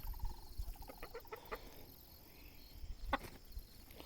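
Hens in a backyard flock of mixed breeds, including an Ameraucana, a gold hen and Rhode Island Reds, give soft, scattered clucks and short calls at low level, with a sharper call near the end over faint outdoor background.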